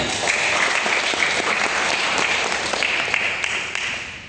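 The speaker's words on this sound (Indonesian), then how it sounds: "Aplaus dulu buat Pradip." A legal association's regional meeting crowd breaks into loud, sustained applause, a dense wash of many hands clapping that holds steady and then tapers slightly at the end.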